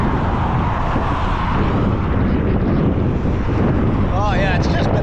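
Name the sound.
strong wind blowing on a bridge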